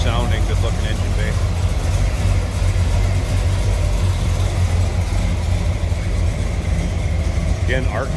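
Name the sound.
1985 Chevrolet C10 engine idling, Edelbrock carb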